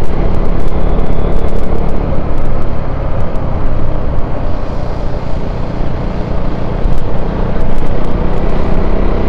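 KTM Duke 390 motorcycle with an RD Powertronic unit, loud continuous engine and wind roar while riding, rising and falling with the throttle over several seconds, no talking.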